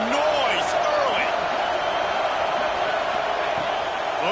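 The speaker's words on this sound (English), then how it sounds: "This crowd bringing the energy and noise early." A big stadium crowd at a Clemson vs Ohio State football game roars steadily, a loud sustained wash of cheering and shouting with a few whistles rising above it.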